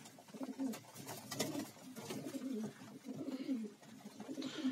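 Pigeons coo softly during a morning feeding, low repeated throaty calls coming one after another in a faint, continuous murmur.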